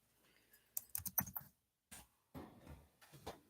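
Bursts of close keyboard typing come in quick clusters of clicks separated by short pauses, fairly quiet and alone.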